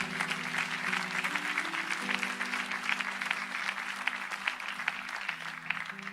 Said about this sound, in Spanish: Dele fuerte aplauso a Cristo